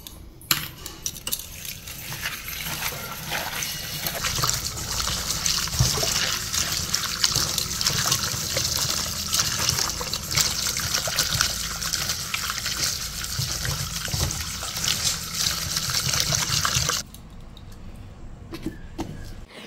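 Blended apple and vegetable juice strained through a sieve, a continuous close trickle and patter of liquid with faint metallic clinks, stopping abruptly near the end.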